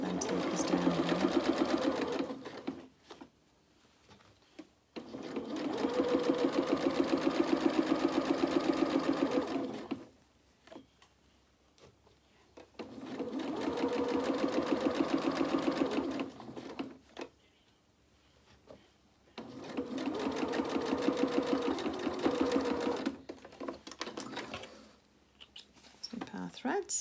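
A sewing machine stitches fabric in four long runs of rapid, buzzing mechanical whirring, each several seconds, separated by pauses where someone speaks softly; close and steady.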